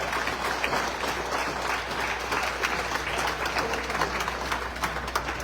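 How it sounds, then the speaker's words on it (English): Steady applause from an audience at a Guyanese presidential address for President Irfaan Ali, dense and even clapping that holds at a constant level throughout. "Let us give the President a round of applause."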